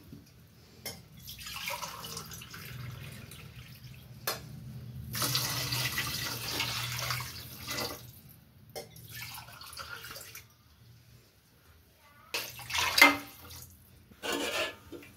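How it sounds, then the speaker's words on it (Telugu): Water poured from a glass into a cooking pot for plain biryani, three glasses over rice, giving intermittent splashing bursts separated by pauses, close and moderately loud with no talk. "3 గ్లాసెస్ వాటర్ అనేది యాడ్ చేస్తున్నాను."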